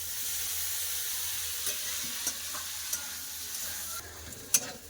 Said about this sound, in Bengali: নিমফুল দিয়ে সিমটাকে ভালো করে ভেজে নেব